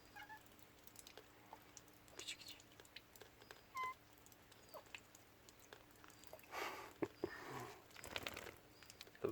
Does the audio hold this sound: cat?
yes